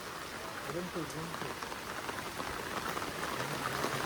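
Steady rain falls at a hill resort in Kakkadampoyil, Kerala, a dense continuous hiss that stays even throughout, with faint voices talking in the background.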